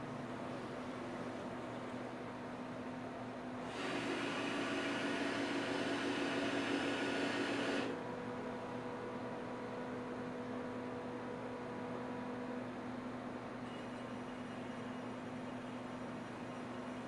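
An AVBIS 3000C glass bottle inspection machine runs with a steady whirring hum, and a louder hissing, airy burst lasts about four seconds before the machine settles back to its even drone, with no talking.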